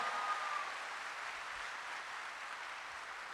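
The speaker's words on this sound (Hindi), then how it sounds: "अपने लिए तो दमदार वाली ताली बजनी चाहिए" An audience at a training session applauds, a soft, steady wash of many hands clapping at a distance that tapers slightly toward the end.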